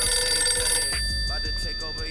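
A telephone bell rings with a steady trilling tone, loud and close, then cuts off as pickup clatter and low thumps follow.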